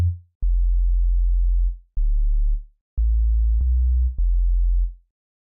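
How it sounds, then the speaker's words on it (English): Pure sine-wave sub bass from Ableton Operator played in a low octave for a jungle bassline, a series of deep sustained notes of varying length with short gaps and sharp clicky onsets, clean and isolated. "I'm gonna got just a sine wave here, which is just already loaded. So just play it on a low octave."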